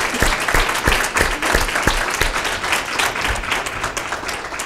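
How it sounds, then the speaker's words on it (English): Audience applause at an alumni talk, loud and continuous, with several distinct heavier claps standing out near the front of the steady crowd clapping. "I would like to give a round of applause to Niaz for sharing her story with us"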